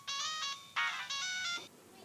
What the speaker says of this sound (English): They collect for Happy Birthday ringtones.